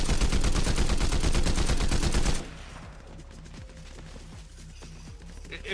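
Rapid automatic gunfire in Fortnite rattles loud and steady for a couple of seconds, then cuts off, leaving quieter distant shots and faint thuds underneath.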